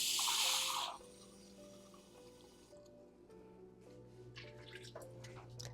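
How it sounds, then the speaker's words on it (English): Water poured from a cup into a green bean casserole made from frozen beans, a brief rushing splash at the start followed by faint drips and small trickles, close by and alone. "So I'm just going to use a little bit of water,"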